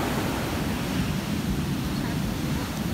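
Ocean surf rolls onto Haffa beach in Oman as a steady, loud broadband wash of breaking waves, mixed with wind buffeting the microphone.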